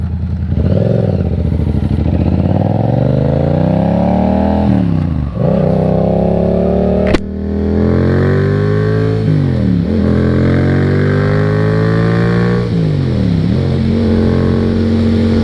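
A Yamaha FZ07 motorcycle engine hums loudly and steadily while riding, its pitch rising and falling through gear changes, with one sharp click partway through and no talk.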